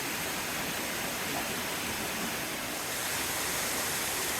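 Prompton waterfall pouring into a creek on a winter hike, a loud, continuous broadband rush of falling water close by, steady and unbroken, with no talking.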